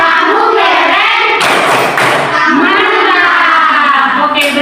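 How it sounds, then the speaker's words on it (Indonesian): Classroom children perform a rhythmic cheer clap together, loud bursts of hand thumps and claps mixed with their chanting voices and a teacher's voice, close and lively throughout. "mari kita berikan tepuk hebat buat Tania."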